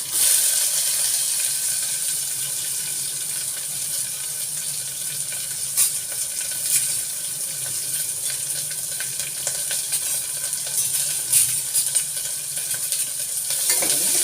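Curry leaves and onion frying in oil, a steady close hiss of sizzling with faint crackles and occasional stirring scrapes and clinks, with no voices.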